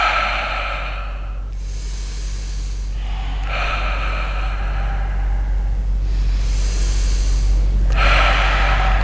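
Deep, slow breaths during a guided meditation, each a broad airy rush drawn in and let out in long waves with pauses between, close and steady over a low background hum, no talking.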